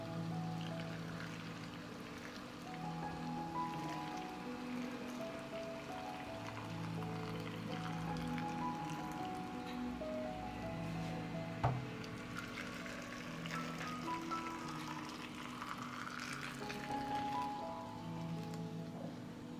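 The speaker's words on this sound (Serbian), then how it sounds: "Voda je proključala i sipat ću je u tegle." Boiling water is poured into glass jars filled with cherries, a faint, steady trickle and splash under a low background hum, with one brief clink partway through.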